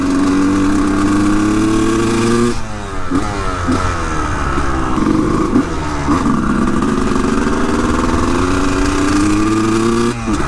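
A Honda CR250 supermoto two-stroke engine runs loud and close, idling with a buzzy drone and then revving up and down in repeated climbing sweeps, with no voices.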